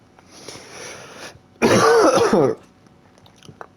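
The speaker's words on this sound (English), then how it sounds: "Man, this cough is dumb." A single loud, harsh cough burst of about a second, preceded by quieter throat-clearing rasps and followed by near silence.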